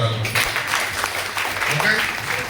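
Applause for Chief Minister Revanth Reddy at a residential school summer camp, a dense patter of clapping from a group mixed with a voice and room noise.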